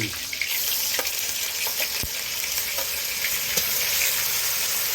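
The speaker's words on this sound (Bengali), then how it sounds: "রসুনটা পরিমাণ মতো ভাজা হয়ে গেলে" Garlic fries in hot oil with a steady, dense sizzle, interrupted by a few sharp clicks and scrapes of stirring.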